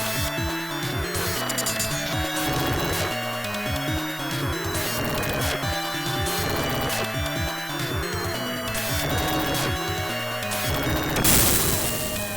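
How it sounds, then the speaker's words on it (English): Massive explosion in the 1995 Sega Genesis/Mega Drive game Alien Soldier: dense, repeated booming crashes layered over loud, busy game music, ending in a bright, noisy burst. "Killing the 7-Force creates an explosion so massive that it launches us from a crater deep beneath Earth into space"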